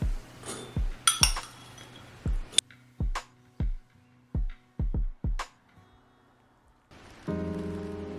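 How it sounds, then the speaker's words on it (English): A spoon mixing sprouts and pomegranate seeds in a bowl, with a series of sharp, close clinks and taps in an uneven rhythm. Quiet gaps fall between the strikes, and a brief rustle comes at the end. "Just mix some sprouts."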